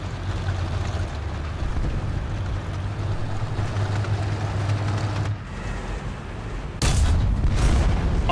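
Tank cannon fire in a video game featuring a T-44, a heavy boom breaking out near the end over a constant low engine rumble and battle noise, with no talk.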